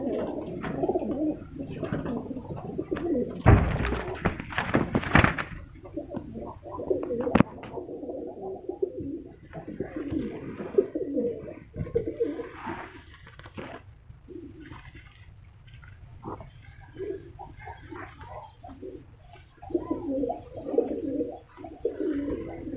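Pigeons coo repeatedly at a busy pigeon market in Multan, Pakistan, their soft, throaty calls overlapping amid a jumble of handling noises, thumps and a brief burst of rustling.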